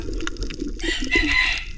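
A rooster crows loudly nearby, a drawn-out cock-a-doodle-doo rising over a low background rumble.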